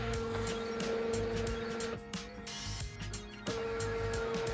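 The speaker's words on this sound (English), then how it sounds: "the printer is very quiet, with no weird ink or hot machinery smells like an inkjet printer has" A quiet printer, not an inkjet, runs test sheets for a sewing pattern with a steady mechanical whir and tonal motor hum, broken by a few brief shifts in pitch, close and alone.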